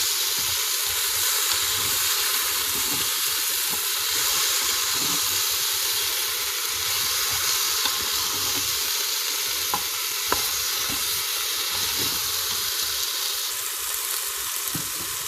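Potatoes and knacki sausages are stirred in a preheating Cookeo multicooker, a steady frying hiss running throughout with soft scraping of the spoon and a few light clicks and taps against the pot.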